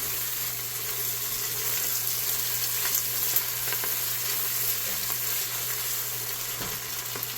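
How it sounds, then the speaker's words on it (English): Poblano, red bell pepper, onion and ground beef sauté in a pan with a continuous hissing sizzle, steady and close, with faint scraping stirs now and then and no talking. "I'm going to add in my poblano and my red bell pepper here, and saute that"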